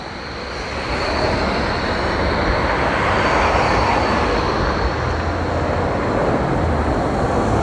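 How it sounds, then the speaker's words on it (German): Trams running on an elevated track in Berlin: a loud, steady, broadband rumble of rolling rail vehicles that builds in the first second and then holds constant, close by, with no talk. "So, da oben fahren die Straßenbahnen."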